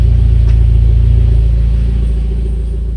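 Mitsubishi Evo X engine idling steadily just after a clutch job, a loud, close, even rumble with a regular low pulse that slowly fades a little.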